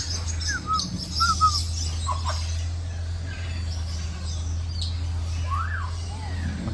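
Birds chirp and call in short, scattered tweets at Bangkok Safari, with several high calls spread over a steady low hum of background noise.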